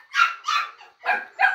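Several puppies of a hunting dog breed bark in short, high yips, four or five bursts spaced irregularly and fairly close, with no talking.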